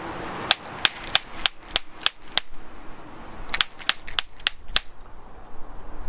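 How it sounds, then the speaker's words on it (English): A hammer strikes cave rock to test its soundness, with two bursts of about six sharp, bright, ringing metallic blows each, struck at a steady rhythm with a short pause between the bursts, close and clear with no talking. "you want to hit the rock with a hammer."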